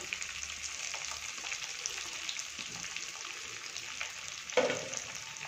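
Oil sizzles steadily in a pan as chopped onion goes into frying soybean chilli, with a brief louder clatter and hiss partway through.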